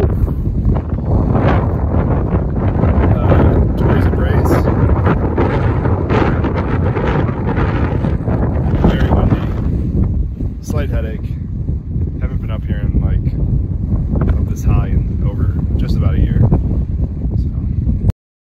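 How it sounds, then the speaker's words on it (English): Strong gusting wind roars across a Colorado fourteen-thousand-foot-class summit on Grizzly Peak, buffeting the microphone loudly and continuously, with voices briefly heard beneath the rush in the latter part. "It is really windy up here."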